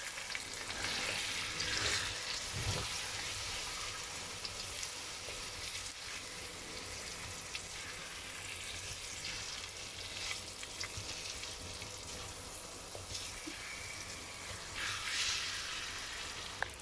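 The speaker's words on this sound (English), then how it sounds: "Now it's time to add in the chicken. So add in the chicken. Okay, and now we stir this." Chicken frying in a pan for chicken masala, a steady hiss and sizzle with occasional scraping stirs, close and continuous with no talk.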